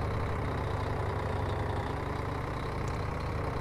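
Bus engine in a bus driving simulator game, a steady low idling drone with a mid-range hum that holds constant throughout while overtaking another bus, with no talking.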